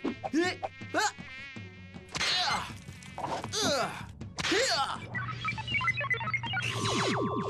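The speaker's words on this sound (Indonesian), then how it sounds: "Lalat ni mengganggu betul lah." Cartoon housefly buzzing in an animated chicken show, a whiny insect drone that swoops in and out in several passes, interrupted by brief character vocal sounds and sound effects.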